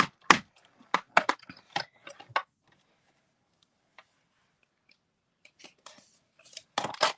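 Scissors snipping through cardstock on a stamping craft table, several quick close cuts in bursts with a quiet pause between, then a final cluster of snips; no talking.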